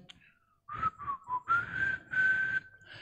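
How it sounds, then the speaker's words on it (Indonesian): A man whistles a short rising and falling tune, a few separate phrases and then a longer sustained note, close and clear with no talking over it. "Atau kita bersiul."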